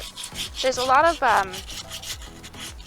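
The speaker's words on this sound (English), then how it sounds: "I'm just going to get to sanding now. My sanding paper today is 150 grit." Sandpaper of 150 grit rubs across a wooden chair in steady back-and-forth strokes, close and fairly quiet, while a voice talks briefly over the middle of the scraping.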